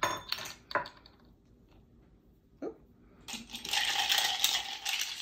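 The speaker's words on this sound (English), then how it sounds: "We're not shaking and bruising, we're stirring." Bar spoon and ice clinking in a glass while a gin martini is stirred: a few sharp clinks, a pause, then a longer run of rattling, swirling ice near the end.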